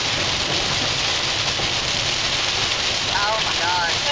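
Heavy rain heard from inside a moving car as the sky darkens, a dense steady roar of drops drumming on the vehicle over road and wind noise, with faint voices and music in the background.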